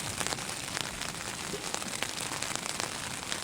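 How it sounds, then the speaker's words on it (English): Heavy rain pours onto a tent at a campsite, a dense steady patter with sharper drops popping across the fabric throughout. "it's pouring the rain"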